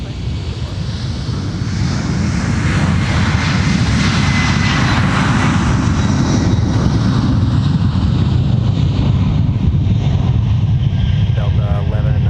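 Delta airliner jet engines roar loudly and continuously at MSP airport, a heavy, close, broadband rumble with a steady whine, heard while radio voices talk faintly in the background.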